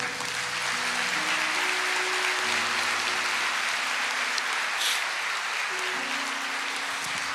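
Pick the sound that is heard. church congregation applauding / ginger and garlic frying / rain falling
church congregation applauding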